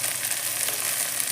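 Fresh curry leaves hit hot oil and set off a bright, continuous crackling sizzle, close and steady, with no voices.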